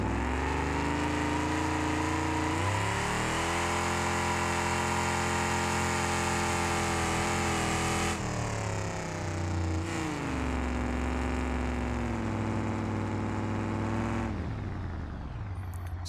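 A car engine running rich in BeamNG.Drive holds a steady, loud drone for the whole stretch, its pitch rising and then falling back in a few smooth revs, with no voices over it.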